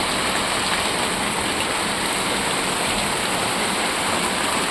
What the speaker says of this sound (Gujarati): જોરદાર વરસાદ આવે